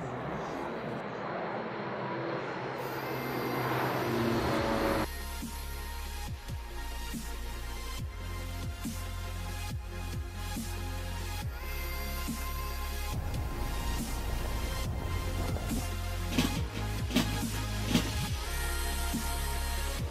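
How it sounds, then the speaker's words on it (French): Engines of a Transall military transport aircraft give a loud, steady low roar that swells sharply a few seconds in and then holds as a continuous drone with faint clatter on top. "Alors le Transall, c'est un avion extraordinaire"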